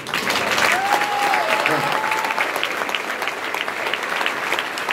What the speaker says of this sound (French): Et je vous demande d'applaudir.